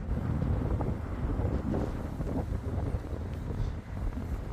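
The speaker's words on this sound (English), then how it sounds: "Wind's picking up, folks." Strong wind buffeting the microphone outdoors on a street in north Sunderland, a continuous loud low rumble with gusty swells and no speech.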